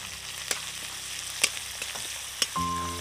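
Chopped onion, green chili and asafoetida fry in a pan with a steady close sizzle, broken by a few sharp crackles and spatula clicks before a louder hiss swells at the end.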